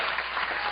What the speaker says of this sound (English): Is that applause for the stat